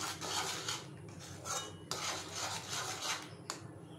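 Spoon or ladle scraping and rasping steadily around a pot as milk is stirred with added powdered milk, repeated close scraping strokes with no talk.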